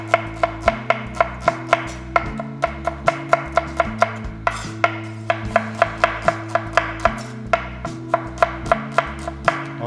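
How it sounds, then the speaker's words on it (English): A knife slices a halved shallot on a cutting board for a Thai Panang curry, giving a steady run of sharp, regular chops up close, with low musical tones playing underneath the whole time. "Next, shallot. Cut it half first and then keep slicing it."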